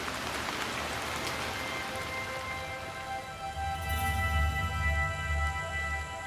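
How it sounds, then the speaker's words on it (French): Heavy monsoon downpour drenching the Kaziranga plain, a dense, steady roar of rain that swells louder partway through, with no voices. "l'intensification des pluies diluviennes qui accompagnent la mousson"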